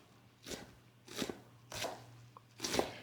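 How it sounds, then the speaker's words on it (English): A knife chopping onion finely on a board, four distinct crisp crunching strokes at an even, unhurried pace, close and clear with quiet between cuts. "We just need to chop this onion as finely as you can."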